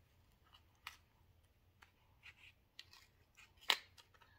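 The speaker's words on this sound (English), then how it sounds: "I need scissors." Several quiet, irregular snips of scissors cutting tape on a package, with one sharper crisp cut near the end, in an otherwise quiet room.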